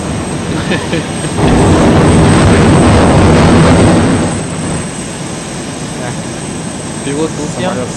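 A jet airplane engine in the military video game ArmA 2 ACE swells into a loud broad roar for a few seconds, then fades back under quieter background noise, with voices talking around it.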